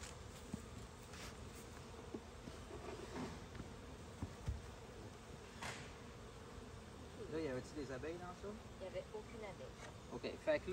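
Honeybees hum and buzz around a pair of beehives fitted with a bee escape, a faint, steady drone with brief nearer passes, while people speak French quietly over it.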